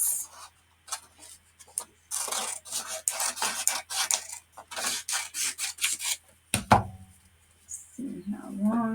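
Craft material being trimmed at close range, heard as a run of quick, scratchy cutting strokes that come in rapid bursts, followed by a brief sharper clatter near the end.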